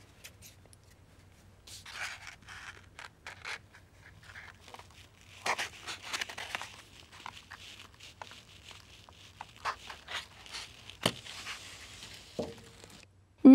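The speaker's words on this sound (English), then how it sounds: "Now that the cartons are dry, I'll poke little holes in the bottom with scissors." Scissors poke holes through the bottoms of dried egg cartons, producing faint, irregular scratchy pokes and cardboard crinkles close by, with one sharper snap near the end.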